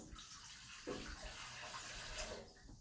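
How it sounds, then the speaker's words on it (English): Water pouring from a container into a bread machine pan for homemade focaccia dough, a steady close splashing trickle that runs for a few seconds, with no voices. "We're going to add in our water here."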